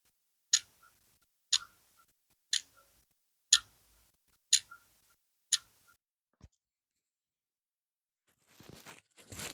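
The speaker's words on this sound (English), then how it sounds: "so we can hear it ticking." A clock ticks six times at an even one-second pace, sharp and close in an otherwise quiet room, followed by a single softer click and then a brief rustle.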